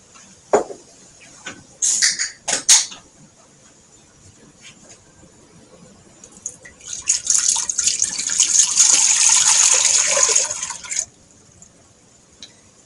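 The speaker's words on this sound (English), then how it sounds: "we're going to start off with 7½ cups of water. That's going to go into the pot." Water poured into a pot for making dill pickles, a few clinks and drips first, then a steady splashing pour for several seconds that stops abruptly.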